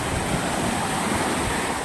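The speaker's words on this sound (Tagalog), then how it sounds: "Ito talaga dagat ito, hindi ito lawa." Sea waves wash onto a rural provincial shore near Taal, a steady broadband surf roar mixed with gusting wind buffeting the microphone, continuous and fairly loud with no talk.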